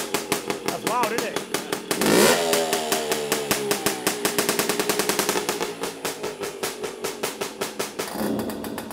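A pre-65 BSA Bantam two-stroke motorcycle engine, loud and close, fires in a rapid popping stutter. Revs surge around two seconds, then settle into a fast, even staccato that slows near the end.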